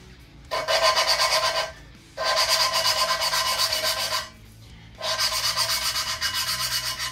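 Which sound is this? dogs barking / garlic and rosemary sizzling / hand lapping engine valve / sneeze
hand lapping engine valve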